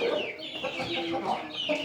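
A broody hen sitting on eggs clucks repeatedly in short, throaty bursts, close by, with soft farmyard background noise throughout.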